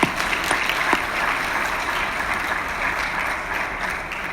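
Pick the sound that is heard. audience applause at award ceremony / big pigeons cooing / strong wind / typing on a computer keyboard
audience applause at award ceremony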